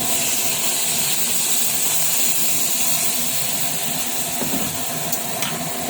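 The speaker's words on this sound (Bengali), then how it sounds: "একটুখানি জল দেবো।" A little water is poured into a hot pan of dry-style curry, setting off a loud, continuous hissing of steam and bubbling that stays strong for the whole stretch, with no voices.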